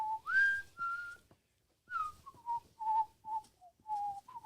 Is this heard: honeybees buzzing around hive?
no